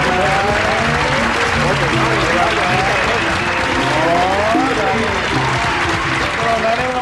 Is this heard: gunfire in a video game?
no